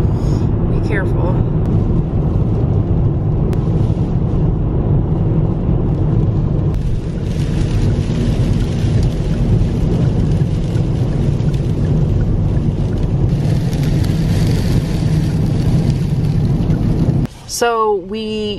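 Wind-driven sand hisses steadily against the windows of a car driving through an Icelandic sandstorm, a dense continuous rush over a low road and engine rumble, with a brief louder clatter near the end.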